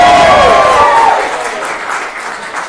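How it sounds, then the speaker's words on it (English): Crowd applause at a comedy night as the next comedian is welcomed, loud at first with a tonal cheer or whoop sliding down over the clapping, then thinning and fading toward the end. "give a warm round of applause for our next comedian"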